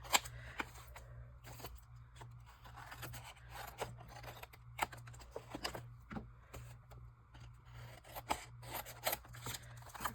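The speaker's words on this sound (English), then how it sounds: "I'm going to cut the corners so we could kind of miter them" Scissors snip the corners of paper while making a vintage glue book journal, a close, quiet series of crisp cuts and rustles in irregular bursts, with no talking.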